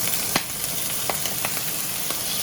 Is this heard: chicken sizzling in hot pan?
yes